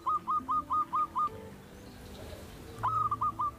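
A zebra dove (perkutut) kept as a cage bird gives a clear, rhythmic series of short cooing notes, pauses, then starts another run of coos close to the listener.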